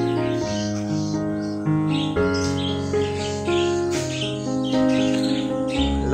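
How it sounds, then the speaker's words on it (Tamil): Lovebirds chirp and tweet continuously at a fort with visitors, their bright calls layered over a dense, loud background of many overlapping tones and crowd ambience, with no clear speech. "love birds"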